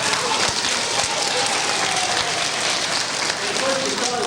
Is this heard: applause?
yes